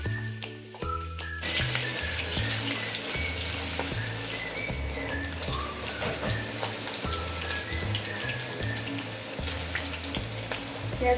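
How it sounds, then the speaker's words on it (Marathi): Bread pakoras frying in hot oil give a steady, close, crackling sizzle that runs throughout, with a rhythmic musical beat underneath. "मी अजून एक बॅच तळून घेते याची."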